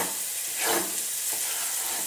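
Steady hiss and crackle of celery and vegetables frying in hot oil, with a brief stirring scrape partway through; no voices.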